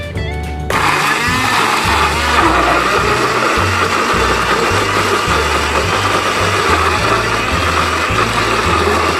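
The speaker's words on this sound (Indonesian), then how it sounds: "kita blender" An electric blender starts and runs at a steady, loud grinding whir, close by and uninterrupted, under a droning motor hum, blending a salted sambal of eggplant and anchovies.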